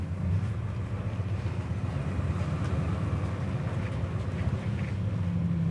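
A 1967 Ford Fairlane 500 XL engine idles at about 500-600 rpm with a steady, low, choppy rumble throughout, fairly loud and close, with no voices.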